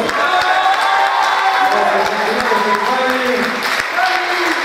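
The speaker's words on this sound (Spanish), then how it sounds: "un aplauso más fuerte para ellos" Loud applause and cheering from an audience at a regional presentation event, dense continuous clapping with whoops and voices mixed in throughout.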